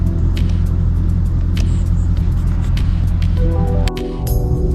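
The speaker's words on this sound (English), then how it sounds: "Okay, let's go for a drive." A 2014 Chevrolet Caprice PPV police sedan rolling along the road, its steady loud engine and tire rumble filling the cabin with occasional ticks and clicks.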